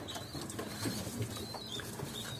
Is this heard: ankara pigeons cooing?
yes